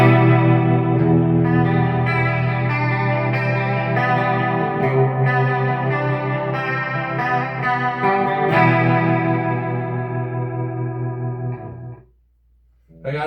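Clean-channel guitar played through the rotary speaker effect of a Peavey Vypyr X2 amp, sustained chords with a swirling, pulsing modulation, loud and continuous before cutting briefly to near silence near the end.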